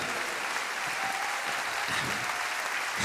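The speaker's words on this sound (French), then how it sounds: "Des applaudissements pour les cuivres, s'il vous plaît." An audience at a live Creole jazz concert applauds the brass section, a continuous, even wash of clapping with no pauses.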